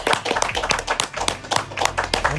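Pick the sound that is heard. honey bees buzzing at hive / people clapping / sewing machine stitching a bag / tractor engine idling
people clapping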